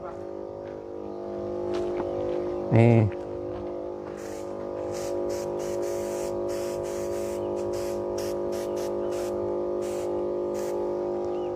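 Motorized sprayer applying FRUITOP and BSA liquid fertilizer to newly planted chili and other vegetable crops: a steady engine drone runs throughout, with repeated bursts of spray hiss and a brief spoken word.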